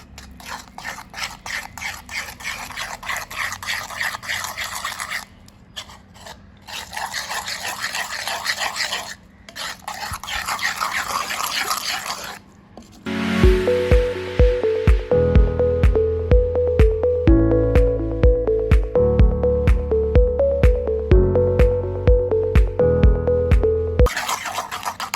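Henna hair pack paste is stirred in a bowl, giving a steady wet rasping and scraping for about thirteen seconds before music takes over.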